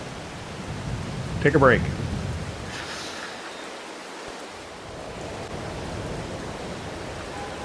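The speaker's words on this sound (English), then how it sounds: "It's still raining, of course, and it will be probably for a while." Rain falling in Farming Simulator 22, a steady soft hiss throughout with a faint rumble, as a voice speaks briefly near the start.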